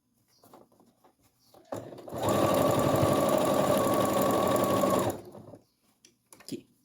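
A sewing machine stitches close along the fabric edge of a baby changing-pad border in one sustained, even run of a few seconds, with faint handling noises before and after.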